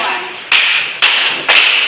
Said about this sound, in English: let's have 3 claps for group 1